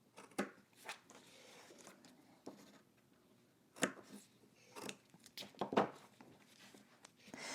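Sewing scissors snip through fabric at close range while a pocket piece is cut to marked dots, giving several sharp, separate clips spaced irregularly with quiet handling sounds between them.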